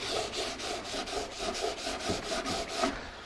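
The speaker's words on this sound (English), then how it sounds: "I got a piece of 320 silicon carbide sandpaper. Now this is dry. I could dry sand this, not an issue." Dry hand sanding on wood with 320-grit silicon carbide sandpaper wrapped around a cork block, a steady rhythmic back-and-forth rasp of roughly a dozen even strokes, close and alone.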